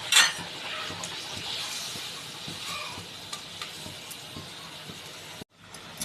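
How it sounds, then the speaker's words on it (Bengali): Water poured into a pan of well-sautéed masala for a Bengali fish-head muri ghonto, a soft hiss and bubbling sizzle that settles into quiet simmering, with a brief cutoff near the end. "ভালোভাবে কষানো হয়ে গেছে, এবার দিয়ে দিলাম জল"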